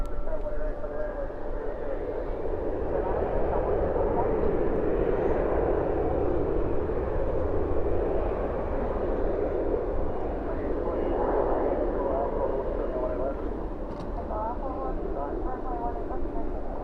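A jet airliner roaring steadily at night at DFW airport, with a broad continuous engine rumble that holds throughout and faint radio chatter underneath.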